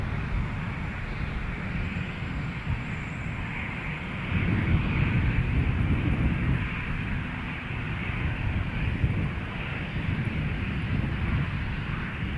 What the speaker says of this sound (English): let's check this crosswind landing on this RJ900 from Saskatoon